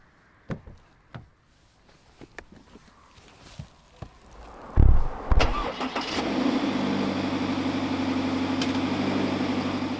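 A 2021 Subaru Outback engine starts up and settles into a steady idle after a few thumps and bumps as it drives over a water bottle, close by with no talking.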